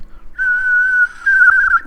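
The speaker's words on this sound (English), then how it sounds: "my noise gate doesn't always catch my whistling" A person whistles two sustained high notes close by, the first held steady and the second wavering slightly after a brief break, with no other sound around them.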